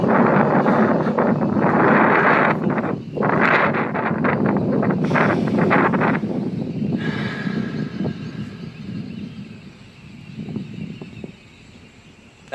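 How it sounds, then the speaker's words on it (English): An air blower rushes loudly and steadily, a broad breathy roar that eases somewhat toward the end. "There's some kind of air blower over here, I promise"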